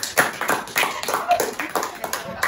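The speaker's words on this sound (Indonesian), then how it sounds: "Oke, tepuk tangan." A small group clapping hands in a counseling session on assertiveness training, with uneven, scattered claps lasting a couple of seconds at moderate loudness and faint voices underneath.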